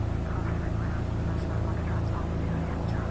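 A propeller aircraft in a flight simulator game taxis with its engine droning steadily and loudly throughout, a continuous rumbling hum with no pauses.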